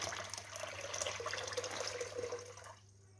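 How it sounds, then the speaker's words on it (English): Lukewarm boiled kettle water pours into a sterilized bucket, a close, continuous splashing stream that stops abruptly near the end, with no voices. "we're going to add this to our bucket, which we've already sterilized"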